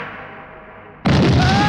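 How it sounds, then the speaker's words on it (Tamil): A bomb blows up in a movie scene: a sudden loud burst cuts in after a low hum, then a sustained roaring rumble continues at full loudness to the end. "என்ன இது மெய்யாலுமே வெடிச்சிட்ட?"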